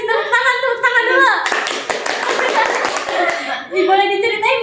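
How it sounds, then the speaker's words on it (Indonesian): Classmates clap for a student during a school podcast, a short burst of close hand claps in the middle with children's voices talking before and after. "Teman-teman kasih tepuk tangan dulu."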